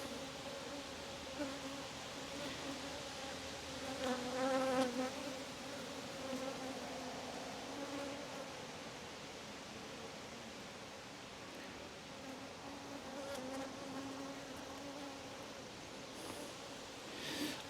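Honeybees swarm and buzz around an open hive during a brood inspection, a steady, close droning hum with denser bursts as frames are handled.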